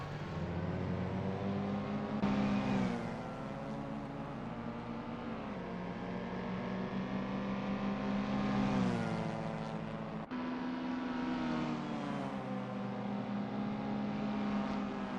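A Mini race car on the Cadwell Park circuit in a sim racing game, its engine droning steadily with rising and falling revs through gear changes, loud and continuous with no talk.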